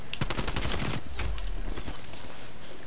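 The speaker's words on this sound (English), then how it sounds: "That's not a shotgun. That's an AK-47." Rapid AK-47 bursts ring out in the video game Call of Duty Black Ops Cold War, a quick volley of sharp close shots followed by a lingering booming tail.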